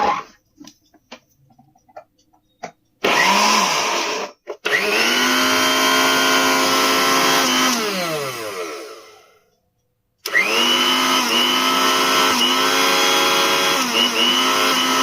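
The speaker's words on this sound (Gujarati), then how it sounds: "એકદમ હેવી મિક્સર છે. તો એની તાકાત જુઓ." A heavy-duty mixer grinder with a steel jar whirs loudly as its motor spins up, winds down to a stop, then starts again, with a strong, steady mechanical whine close by.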